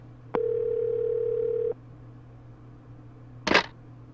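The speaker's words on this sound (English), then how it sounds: "Fax machine rings." Electronic ringing of a fax machine in the survival horror video game Clock Tower 2, heard as one steady tone of about 1.4 seconds, then a brief harsh burst of noise. No one speaks.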